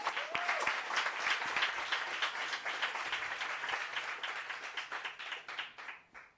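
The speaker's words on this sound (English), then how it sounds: "So give yourself a round of applause." An audience at a workshop and expo on dealing with failure and rejection claps in sustained applause. The dense clapping carries through the room and gradually fades out.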